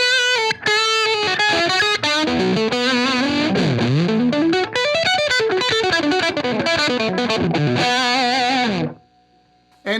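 Electric guitar lead through a tube driver pedal, fast harmonically rich distorted runs and sweeping bends played alone, ending in a sudden cutoff near the close.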